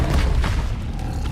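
A Confringo spell explosion in the video game Hogwarts Legacy lands as a single deep, loud boom that rumbles and fades over about a second.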